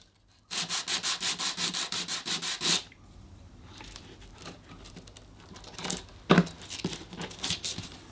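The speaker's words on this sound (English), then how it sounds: "after some pretty light sanding, it fit real nice." Rapid rhythmic strokes of sandpaper rub across wood for a couple of seconds, then lighter, scattered scraping and handling noises follow.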